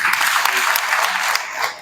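An audience at a political movement rally applauds, a dense, even wash of clapping from a large crowd that holds steady and eases slightly toward the end.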